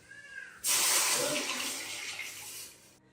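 Water poured into an open cooking pot for rice pulao, a steady broadband splashing stream that starts abruptly, runs about two and a half seconds, then stops.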